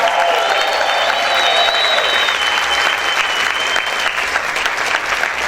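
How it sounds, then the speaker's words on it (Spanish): A church congregation claps hard and shouts, making dense, loud, continuous applause with whistles and cheers rising over it before it gradually thins. "¿Cuántos pueden gritar y aplaudir fuerte al Señor?"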